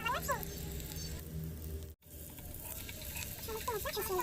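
Turmeric and sugar being stirred in a hot frying pan give a soft, steady sizzle with light scraping pattering throughout, a brief dropout in the middle, and someone talking over it.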